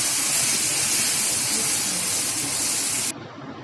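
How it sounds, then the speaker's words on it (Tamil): Ground onion tomato chutney sautés in a hot pan with curry leaves, giving a loud, steady hiss of sizzling that cuts off abruptly near the end. "அரைச்சி வச்சுருக்க சட்னிகளும் சேர்த்து நல்லா வதக்கி விட்டுக்கலாம்"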